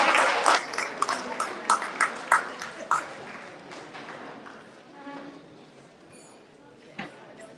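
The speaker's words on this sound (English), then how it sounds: "A round of applause for everybody." Audience applause at a women's sustainable futures summit, heard as scattered claps with distinct sharp hits early on that thin out and fade, with a voice briefly audible later.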